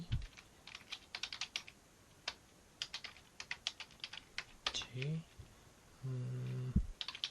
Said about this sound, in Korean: 지금 이렇게 제가 타이핑을 했고요.